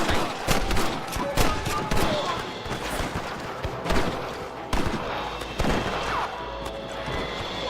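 Gunfire in the Red Dead Redemption video game during a shootout with rustlers: rapid, loud repeated shots and crashes over continuous game noise, with voices shouting between them.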